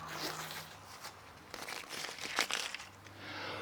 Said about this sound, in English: clean off your bow, remove the tape.